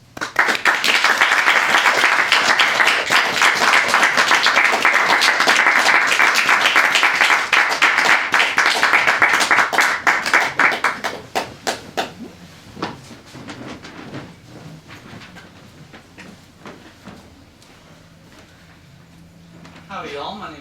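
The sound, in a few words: audience applause at a poetry reading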